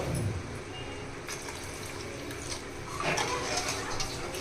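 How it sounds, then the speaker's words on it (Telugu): Steady splashing of two glasses of water poured into a pot of fish curry, continuous and close, swelling slightly louder toward the end. "అలాగే రెండు గ్లాసులు నీళ్ళు కూడా వేసుకోవాలండి"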